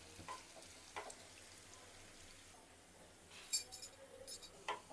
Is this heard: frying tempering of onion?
yes